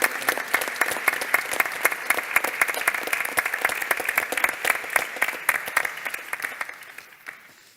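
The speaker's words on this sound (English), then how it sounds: "please a round of applause for our national team" Indoor audience clapping for a national cyber security team at a European cyber security challenge event, dense sustained applause that gradually thins and fades out.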